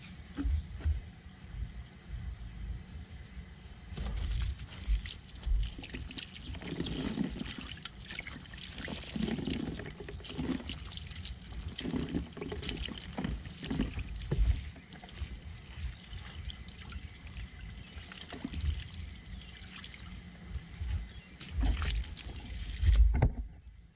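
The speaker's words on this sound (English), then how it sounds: "rinse immediately with plenty of clean water" Water splashes and runs steadily close by as a hose rinses a car wheel, with occasional heavier gushes.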